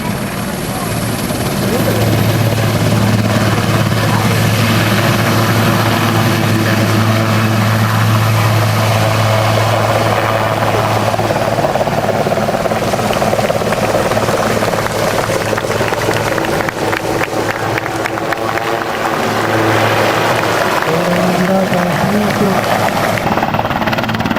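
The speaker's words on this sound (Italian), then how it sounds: "un decollo all'indietro che è sempre una manovra molto bella da vedere" A helicopter performing a backward takeoff at an air show roars steadily up close, rotor and engine loud and continuous throughout, with a voice talking over the din.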